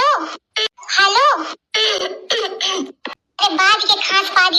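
A woman coughs loudly and close in a Hindi comedy skit, in repeated harsh bursts with strained vocal sounds between them.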